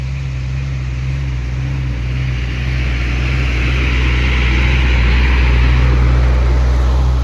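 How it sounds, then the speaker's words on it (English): A big truck rolls past in a residential neighborhood, a loud, continuous engine-and-road roar that swells slowly and stays heavy throughout, with no voices. "Big old truck."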